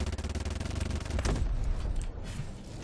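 Rapid bursts of Class 4 weapon gunfire from the video game Vanguard rattle in a fast regular stream, then a heavier blast follows and fades into rumbling noise.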